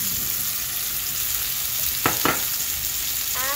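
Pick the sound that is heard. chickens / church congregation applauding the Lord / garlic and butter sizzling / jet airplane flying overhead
garlic and butter sizzling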